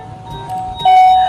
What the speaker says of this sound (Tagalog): May nag-doorbell sa gate!